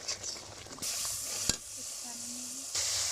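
Spices sizzling and being stirred in a hot pan for a home-cooked Bengali fish curry, a steady close frying hiss with brief scraping touches and a sharp clink near the middle.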